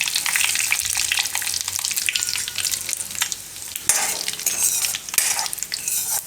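Bay leaves, red chillies, curry leaves and asafoetida sizzle and crackle in hot oil in a home kitchen, a continuous bright frying hiss with occasional stirring scrapes and pops.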